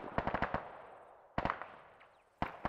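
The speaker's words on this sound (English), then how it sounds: "They're still firing on it with their grenade launchers." Grenade launcher fire in the game Antistasi, a rapid burst of sharp reports followed by two more clusters of shots, each with a decaying tail, no talking.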